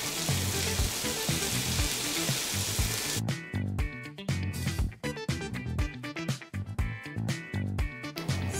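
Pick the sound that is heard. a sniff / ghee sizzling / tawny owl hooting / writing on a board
ghee sizzling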